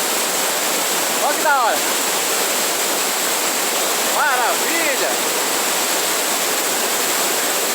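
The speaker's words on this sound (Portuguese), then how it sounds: "Nunca vi essa cachoeira na minha vida" Steady roar of a waterfall fills the scene, loud and continuous, with a person briefly talking and exclaiming over it.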